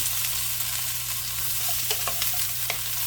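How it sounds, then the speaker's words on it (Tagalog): Beetroot strips sautéing in a pan, with a continuous near sizzle and a low steady hum beneath, broken by soft scraping stirs toward the end. "ito po yung ating beetroot ay cut to strips. Yan, gisa na rin natin."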